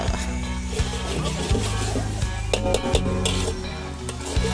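Fried rice sizzles steadily in a hot pan while a utensil stirs and scrapes against the metal at irregular intervals.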